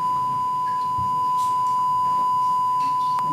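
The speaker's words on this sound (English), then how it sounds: "I know to be a sine wave, they have to go on forever." A steady sine-wave calibration test tone for setting audio meters holds one unbroken pitch from start to finish, loud and constant with nothing else over it.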